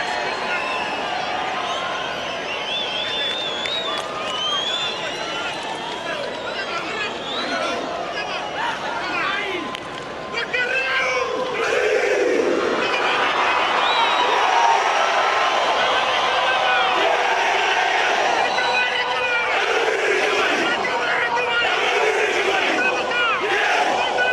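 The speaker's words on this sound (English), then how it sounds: "that atmosphere is just going to be raked up now another couple of notches with the Fijian thimbi" Fijian cibi war dance performed before a Rugby World Cup 2011 match against Wales, with chanting voices and a stadium crowd roaring, the noise swelling louder midway and staying dense while a commentator speaks over it.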